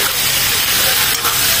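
Chicken stirred with turmeric, garam masala and garlic paste in a pan gives off a dense, steady sizzling hiss for a short moment, with no voices.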